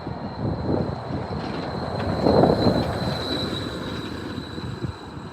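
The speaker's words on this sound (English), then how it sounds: "Is the London North Eastern Railway service from Lincoln Central" A London North Eastern Railway passenger train from Lincoln Central rumbles steadily past nearby at a station, with a sustained high-pitched whine and brief wheel squeal, no talking.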